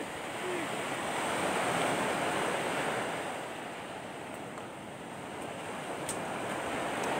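Sea surf rushes and washes in a steady broad roar, rising and easing slowly with the waves, heard near the shore with light wind noise on the microphone and no talking.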